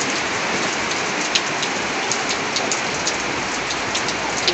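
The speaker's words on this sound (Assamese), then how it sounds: "দেখিছে বৰষুণ টোপাল ধৰি আছোঁ মই" Steady, dense rain pours down close by, a continuous hiss with scattered sharper drops striking a surface and no pauses.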